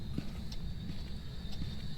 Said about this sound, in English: you want to listen also for the footsteps. The footsteps will give away the Rev also.